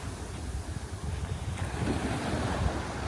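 Pacific Ocean waves wash steadily onto the shore, a continuous rumbling surf mixed with wind buffeting the microphone, no voices present.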